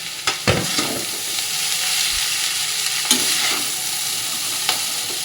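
Boiled atta chowmein noodles stir-fried in a pan, a steady close sizzle with scraping stir strokes and a few sharp utensil knocks, no talking.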